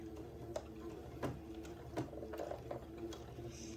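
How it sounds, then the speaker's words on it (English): A sewing machine straight-stitches a small cuff onto the bottom of a dress sleeve beside an entredeux ladder, a close, quiet mechanical whir with regular ticking clicks throughout, no talk. "using a straight stitch and sewing right to the right of the entredeux ladder, I'm going to sew this little cuff to the bottom of the sleeve"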